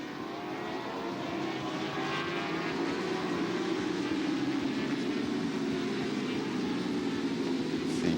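Pack of racing motorcycles roaring off at a three-wave endurance restart on the Talladega GP track, a steady dense engine drone held at distance with a slowly shifting pitch.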